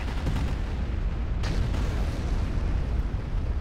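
Continuous heavy bombardment in the video game Rage, a dense, loud low rumble of overlapping blasts with a sharper burst near the middle, sustained throughout with no pauses.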